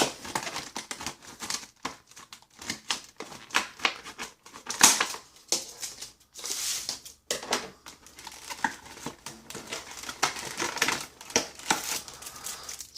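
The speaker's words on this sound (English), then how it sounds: "we'll go ahead and tear into this package here" A plastic package holding an LED TV backlight kit is torn open by hand, giving close, irregular bursts of crinkling, ripping and rustling with short pauses between them.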